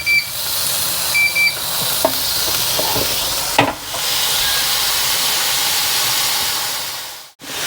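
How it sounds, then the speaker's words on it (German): Pineapple slices frying on an OptiGrill contact grill, a steady broadband sizzle and hiss that holds throughout, with a few faint beeps near the start and a brief knock partway through. "Und zu guter Letzt braten wir noch Ananas."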